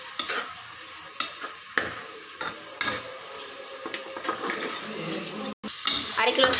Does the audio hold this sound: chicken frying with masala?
yes